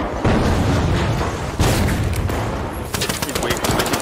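Rapid bursts of video game gunfire crack loudly in quick succession, with an explosive boom near the start and dense automatic fire continuing throughout, up close and overlapping.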